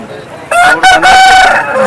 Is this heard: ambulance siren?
no